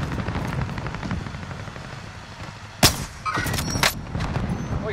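Gunfire in Call of Duty: Modern Warfare, a loud sharp shot followed by a few more bursts over a steady low rumble of game background noise.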